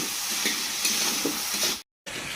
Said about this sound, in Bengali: ফুলকপি প্রায় 10 মিনিট ধরে ভালো করে ভাজছি